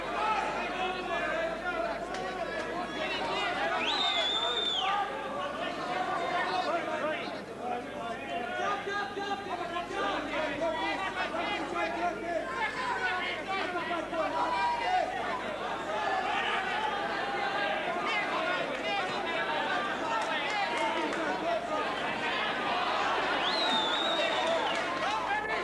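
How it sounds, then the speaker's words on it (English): Boxing arena crowd at a flyweight title bout featuring Dave McAuley, a steady loud roar of chatter and shouting cheers rising and falling throughout, with a commentator talking over it. "Crowd trying to urge McAuley on to some really explosive action"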